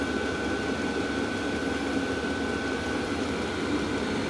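A cheap diesel heater set to its hottest setting runs steadily, blowing hot air with a constant whooshing fan roar and a faint whine, unbroken and fairly close throughout.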